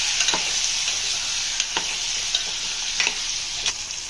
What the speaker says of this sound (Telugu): యాడ్ చేసుకొని ఇలా కలుపుకోవాలి.